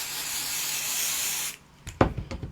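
Continuous aerosol spray basting adhesive hissing steadily onto a fabric piece for about a second and a half, loud and close, then stopping, followed by soft handling taps and rustles.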